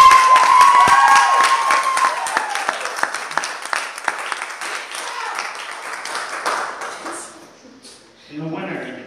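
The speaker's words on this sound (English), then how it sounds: "let's give them both a round of applause." Audience applause and cheering at a live sword-fight show before scores are read, a loud dense burst of clapping and shouts that gradually thins out and fades, ending in a brief pause followed by renewed noise.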